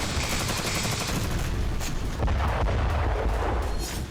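Heavy explosions and artillery fire from the war in Ukraine, a dense, continuous roar of booms and blasts with sharp cracks layered over a rumbling low end.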